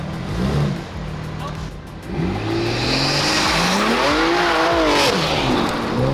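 A BMW M4 CS launches hard in all-wheel-drive mode, its engine note climbing through rising, stepped harmonics as it accelerates close by, loud and continuous, with a voice speaking over it.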